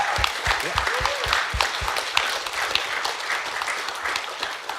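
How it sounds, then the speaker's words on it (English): Audience applause at an evening data project challenge event, a moderate crowd clapping steadily with a few sharp nearby claps and faint murmuring voices mixed in. "I think the Mirek, first of all, requires applause from you."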